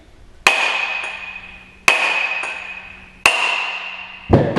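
Three loud, evenly spaced metallic hammer blows on a clutch puller separating the clutch halves of a 2016-18 Can-Am Defender 800/1000, each ringing out before a final duller clank.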